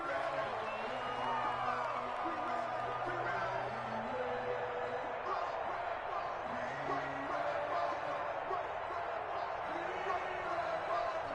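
A stadium crowd in an American football video game roars steadily and loudly throughout, with a voice talking over the noise.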